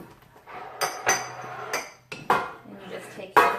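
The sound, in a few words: mixing lemon loaf batter in a bowl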